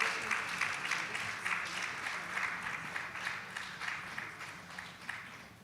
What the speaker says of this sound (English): Ladies, a round of applause.